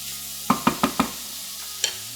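Shallots, celery and carrot sauté in a soup pot over reduced heat as a spoon stirs them: four quick scraping strokes in a row, then one more a moment later, over a soft background sizzle, with no talking.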